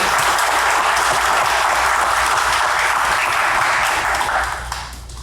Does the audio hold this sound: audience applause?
yes